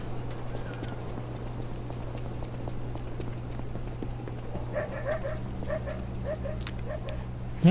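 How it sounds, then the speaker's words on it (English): A dog barking in the Lies of P video game, a short series of yelping barks partway through that sound somewhat distant, set over a steady low ambient hum and scattered clopping footsteps. "I don't know where that dog barking is coming from"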